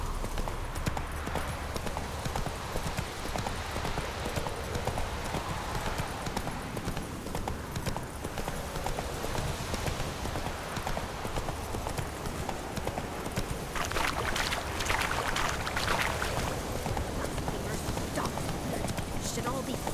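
Horse hooves clip-clop steadily at a walking pace in The Witcher 3, a continuous rhythmic clatter running throughout with game ambience and a brief voice layered over it.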